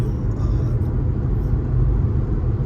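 A VW MK7 GTI cruising at about 55 mph gives a steady, loud low road and engine rumble from inside the cabin, with no change in pace.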